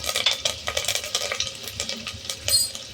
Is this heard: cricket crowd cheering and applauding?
no